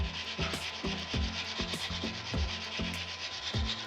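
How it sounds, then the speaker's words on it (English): Filler on a 1/72 Airfix Supermarine Spitfire plastic model kit being sanded by hand in steady back-and-forth strokes, a close, rhythmic rasping repeated about every half second with no talk. "Now we just sand it"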